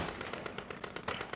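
Rapid bursts of gunfire crackle through a WWII video game battle at Arnhem, sharp shots firing in quick irregular succession, loud and dense throughout.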